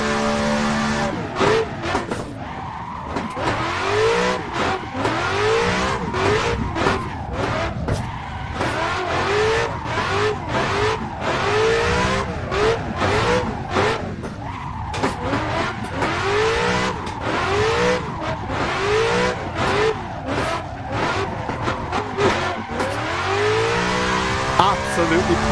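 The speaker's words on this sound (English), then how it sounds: "it would be rude to leave a Assetto Corsa without a bit of clutch kicking and a bit of drifting" Nissan Silvia S13 with an engine swap drifting in the racing game Assetto Corsa: a loud, continuous engine note revving and bouncing off the limiter, with tires squealing in repeated bursts, no talk heard.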